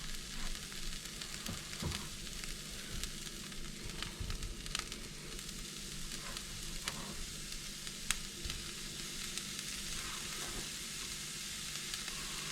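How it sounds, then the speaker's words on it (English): Beef and chopped bacon fry in a pan with translucent onions, giving a continuous close sizzle and crackle throughout, with occasional stirring clicks and a few sharper pops. "I'm going to go ahead and add the beef and the bacon right away."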